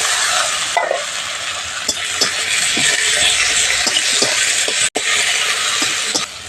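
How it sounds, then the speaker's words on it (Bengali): Onion and tomato fry in a pan with a continuous close sizzle, broken by stirring scrapes and clicks and one brief dropout near the end, with no voices. "পেঁয়াজ আর টমেটো হালকা করে ভেজে নিয়েছি"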